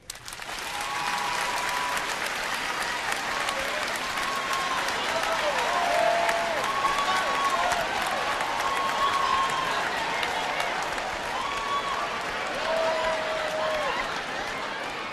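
A studio audience at a podcast taping claps steadily and loudly throughout, a thick sustained wash of applause with faint voices and whoops rising above it.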